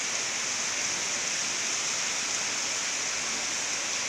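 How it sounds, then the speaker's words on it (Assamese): Rain falls steadily beside a house pond, a dense, even hiss of drops that stays constant and fairly loud with no other sounds. "বৰষুণ দিছে দেই"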